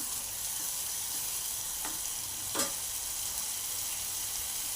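Spice masala roasting in oil for dhaba-style whole masoor dal, a steady low hiss of frying throughout with a couple of faint utensil scrapes.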